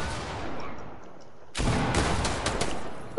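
Video game gunfire rings out in a sudden loud volley after a quieter stretch, with rapid overlapping shots and sharp cracks. A final burst lands right at the close.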